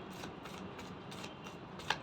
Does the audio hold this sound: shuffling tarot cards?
yes